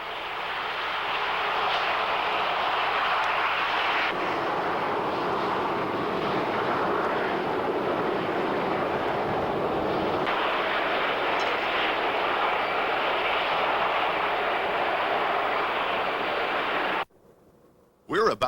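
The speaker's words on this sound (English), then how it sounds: "Today, airplanes are fast and sleek." A fixed-wing airliner's engines roar in a steady, loud broadband wash that holds for most of the stretch, then cuts out abruptly near the end.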